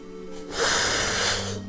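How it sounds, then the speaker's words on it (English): A person's yawn, a long breathy exhale with a rising and falling wheezy tone lasting about a second, close to the microphone over faint background. "Why do I yawn so much?"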